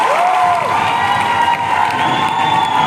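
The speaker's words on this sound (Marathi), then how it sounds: "सो एकदा जोरदार टाळ्या तर सगळ्या कोरिओग्राफरसाठी आपण वाजवूया." A crowd at an intercollegiate cultural youth festival cheering and clapping for the choreographers, a loud, dense roar of applause and shouts sustained throughout.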